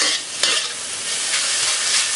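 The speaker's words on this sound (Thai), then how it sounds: "เนื้อนี่ไม่ต้องผัดนานนะคะ" Beef stir-fried in a hot wok for spicy dry basil beef, a continuous loud sizzle with a couple of sharp scraping stirs of the spatula, close and without talk.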